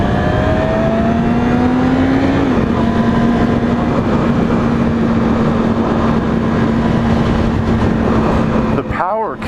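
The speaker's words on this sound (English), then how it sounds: "The power kicks on a lot earlier in this R6 than it did with the old ones." A Yamaha R6 motorcycle with stock exhaust accelerates, a steady high-pitched engine whine that climbs briefly then holds under wind roar, with a voice talking over it near the end.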